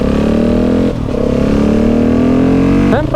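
A KTM 690 SMC R single-cylinder engine with a faulty timing chain tensioner runs close by, a loud steady idle with metallic rattling, briefly dipping near one second and revving with a short blip near the end.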